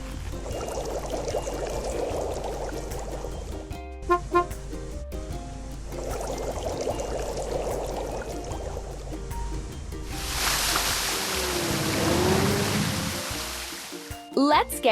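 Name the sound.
water pouring to fill a tank, from a video game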